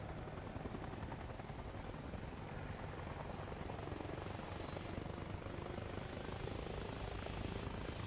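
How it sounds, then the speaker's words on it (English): A helicopter in the ARMA Reforger video game flies steadily, its dense rotor and engine roar filling the scene loud and unbroken, with a faint high whine drifting above. "He's flown off with one person in his helicopter."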